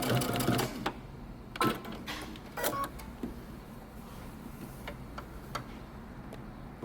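Sewing machine backstitching the end of a seam on a men's button-up shirt, short bursts of stitching with ticking pauses in between, close and moderately loud, no talking.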